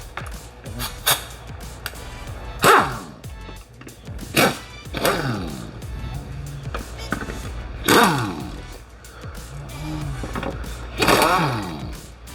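Bursts of pneumatic air tools rattle and whir in short spurts with hissing and clunks between, close by in a workshop while fitting transmission mounts on an Audi S4, no clear talking.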